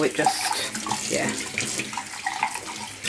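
Tap water runs steadily and splashes as raw chicken thighs are rinsed under a kitchen faucet, while a person talks briefly over the rushing stream.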